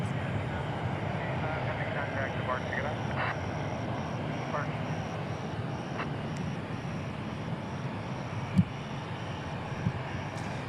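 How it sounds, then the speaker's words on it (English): A UPS 765 cargo jet departing for Louisville rumbles at an airport, a steady distant engine roar with a few faint clanks, under a voice talking. "Off to Louisville, UPS 765. This flight right here."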